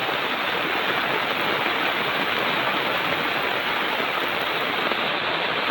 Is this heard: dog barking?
no